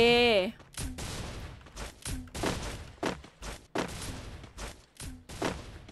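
Gunshots in the battle royale game Free Fire, about six or seven sharp, loud shots spaced roughly a second apart, with a short voiced sound at the start.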